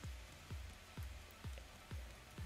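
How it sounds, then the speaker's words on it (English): Rain falling in the survival video game Raft, a steady faint hiss of drops with soft low thumps recurring about every half second, no voices present. "Yep, it's raining."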